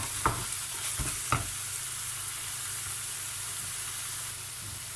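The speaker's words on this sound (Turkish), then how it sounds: "Biraz soğanım da kavrulsun." Chopped onions and spices fry in a pan for stuffed kibbeh filling, a steady close sizzle with a few sharp stirring scrapes early on and no talk.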